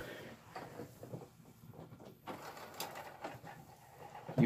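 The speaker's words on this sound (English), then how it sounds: "that noise you heard is just the disc spinning around on the platter when the platter isn't moving." An RCA CED videodisc spins on a player's platter, giving a faint, steady mechanical whir and rumble with small irregular bumps, close by and with no one speaking.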